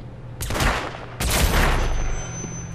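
Gunfire in Hitman: Absolution, two loud close bursts of shots, each sharp blast followed by a rumbling decay.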